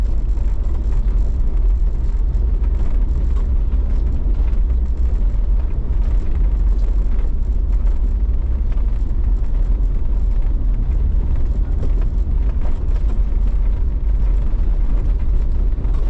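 A car rolls along a rough gravel road, giving a constant loud low rumble and road roar with a steady crunching texture and no pauses.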